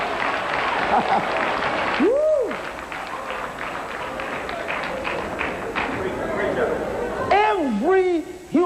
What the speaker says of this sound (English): Come on, clap your hand, somebody.